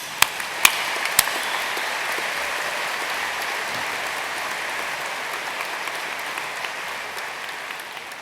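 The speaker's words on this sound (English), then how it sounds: "Yes, have a clap." At a 2015 media and communication graduation ceremony, an audience applauds in a long, even burst of clapping that holds steady throughout, with a few sharp, close claps near the start.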